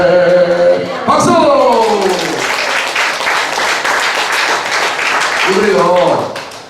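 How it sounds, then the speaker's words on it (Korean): An audience at a Christian Bible seminar in the Korea Christian 100th Anniversary Memorial Hall breaks into several seconds of loud, dense clapping between stretches of someone speaking. "박수!"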